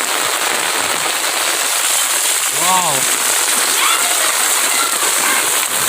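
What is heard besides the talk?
heavy monsoon rain on an umbrella in a village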